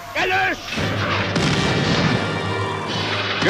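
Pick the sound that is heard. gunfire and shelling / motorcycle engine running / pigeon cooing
gunfire and shelling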